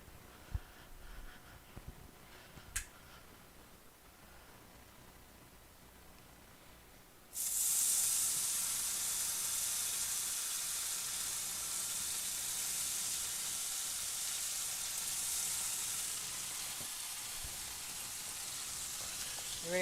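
Food drops into hot grease in a skillet with a sudden loud, steady sizzle that fills the rest, after a quieter stretch of faint kitchen handling noises.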